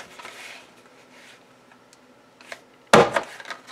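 A Stampin' Up! paper punch presses through card stock with one sharp, loud crunching snap after quiet rustling and handling sounds, close up.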